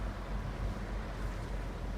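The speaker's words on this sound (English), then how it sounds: "You can feel the rumble now of the engines." Boat engines rumble low and steady on the Providence River, a continuous deep drone mixed with wind buffeting the microphone and no clear voices.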